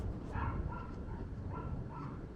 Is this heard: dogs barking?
yes